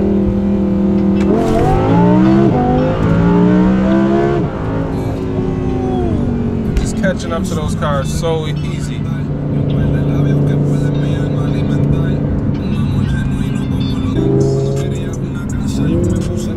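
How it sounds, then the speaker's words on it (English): Naturally aspirated Audi R8 with a straight-pipe titanium exhaust accelerating hard on a street, loud rising revs through several gear changes with a rasping blare, while someone talks over it. "the straight pipe titanium exhaust, just naturally aspirated"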